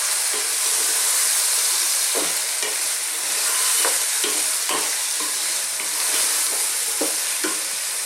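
Garlic ginger paste, an equal mix of both, fries loudly in a pot for a Middle Eastern lamb stew, a bright continuous sizzle broken by repeated scraping stirs.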